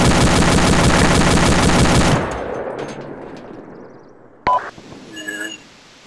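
Rapid automatic gunfire in a base-defense video game, a dense loud burst of shots lasting about two seconds before cutting off, followed by faint ambient noise and a few short electronic beeps.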